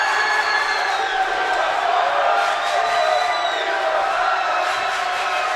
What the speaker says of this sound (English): Loud crowd.